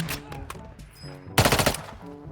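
Gunfire in the mobile shooter game Warzone Mobile, with a sharp burst of rapid automatic shots after quieter game sounds, loud and close.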